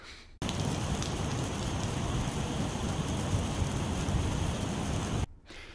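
Water poured by hand onto concrete to mimic rain and rocky patter gives a dense, steady hiss lasting about five seconds, close and even, with no other sounds.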